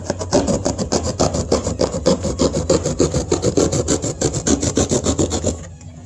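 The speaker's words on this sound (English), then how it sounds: "I'm going to cut that right off right now." Cardboard is sawn off with rapid back-and-forth rasping strokes, steady and close for about five seconds before stopping.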